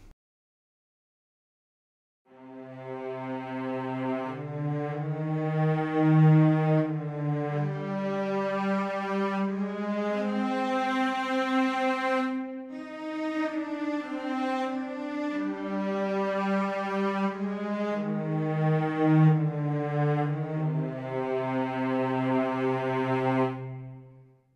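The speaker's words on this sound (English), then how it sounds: "So here is the cello." A cello section from the BBC Orchestra Discover sample library plays sustained, legato low melodic lines, bowed notes gliding smoothly one into the next, full and rich, heard alone with no talk.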